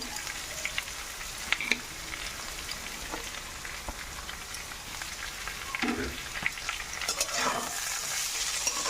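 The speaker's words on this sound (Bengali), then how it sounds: "আলুর সাথে বিটটাকে ভালো করে মিশিয়ে নেব" Fried beetroot, previously cooked with garlic, being stirred together with potatoes and green chillies in a pan for a Bengali sabji, with a steady sizzle and scraping strokes of the spoon throughout, close and alone.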